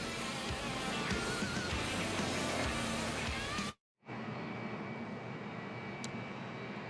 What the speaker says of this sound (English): in the background you probably hear the sound of the jet dryers